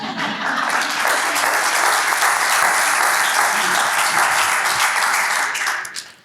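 A conference audience applauds a microphone assistant at an economic and geopolitical outlook event, a dense, steady burst of many hands clapping that holds for several seconds and then tapers off at the end.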